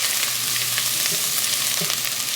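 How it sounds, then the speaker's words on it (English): Garlic sizzles steadily in a hot pan, a continuous bright frying crackle with faint stirring scrapes, close and alone with no talk. "So we'll let the garlic cook for about 30 seconds."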